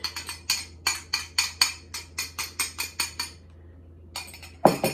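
A whisk beats eggs into molasses gingerbread batter in a bowl, a close series of quick, rhythmic clinking scrapes about twice a second, then a pause and a sharper tap against the rim.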